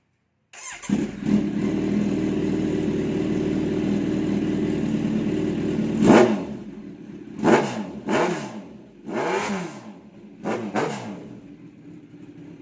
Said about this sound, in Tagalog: Heto na kung ano yung tunog ng full exhaust natin.